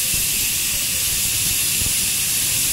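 A pressure cooker cooking chana dal with turmeric vents steam through its whistle in a loud, continuous, bright hiss that holds steady and close throughout.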